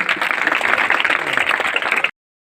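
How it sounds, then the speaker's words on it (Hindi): A crowd at a village school upgrade ceremony bursts into loud, vigorous clapping for about two seconds, dense and close, before cutting off abruptly into silence. "जोरदार तालियां।"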